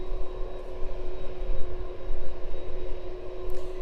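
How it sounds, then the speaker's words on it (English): An aircraft touching down on the runway at East Midlands Airport in the evening: a steady, loud broadband jet roar with a constant tonal hum, fairly close, with no speech. "Safely touching down into East Midlands this evening then."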